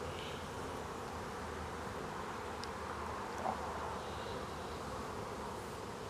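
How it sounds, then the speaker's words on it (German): Dense, steady buzzing of a great many honeybees, young bees among them, from an open Langstroth hive during a swarm check, holding a constant near drone throughout. "Extrem viele Bienen, Jungbienen auch natürlich."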